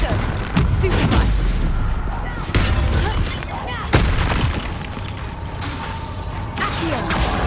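Spell-casting explosions and blasts in the Hogwarts Legacy video game, loud booming impacts and crackling magic effects in quick succession under a player's shouting voice.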